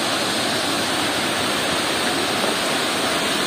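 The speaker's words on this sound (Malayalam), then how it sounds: "അപ്പൊ നമ്മള് വെള്ളച്ചാട്ടത്തിന്റെ അടുത്തെത്തി," Alakapuri waterfall at Kanjirakkolli roars loud and close in a dense, unbroken rush of falling water, with no voices over it.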